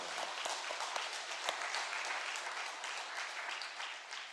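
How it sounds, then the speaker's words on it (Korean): A church congregation in Pyeongtaek bursts into steady applause, a dense, continuous patter of many hands filling the sanctuary, fairly faint and even, tapering slightly at the end. "그런 의미에서 우리 한번 박수 한번 칠까요?"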